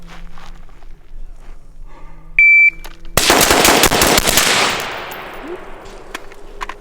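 SCAR 16 rifle fired on a carbine shooting course: a brief timer beep, then a rapid string of loud, sharp shots that ring out and decay over about a second, with quieter movement before and after.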